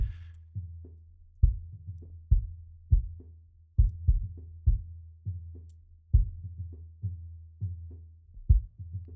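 Deep, muffled drum thumps resonating around 45–60 Hz, low-pass EQ-filtered, repeating in a slow, uneven heartbeat-like pattern, each a low boomy hit with a short decay, no voices.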